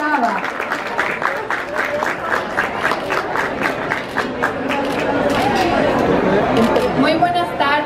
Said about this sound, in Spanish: Bienvenida Carolina, la recibimos con un aplauso.